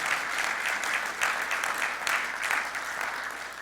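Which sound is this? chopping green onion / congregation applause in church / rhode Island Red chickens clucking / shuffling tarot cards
congregation applause in church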